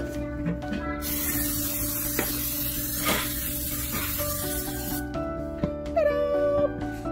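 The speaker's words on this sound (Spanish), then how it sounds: "Y vas a estar rociando tu molde con aceite para que esto no se te vaya a" Oil being sprayed onto a baking mold while preparing a mostachón dessert, a steady hissing spray running for several seconds over faint kitchen background, with a short tonal squeak near the end.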